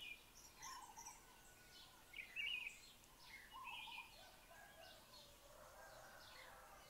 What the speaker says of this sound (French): on entend les oiseaux, les coqs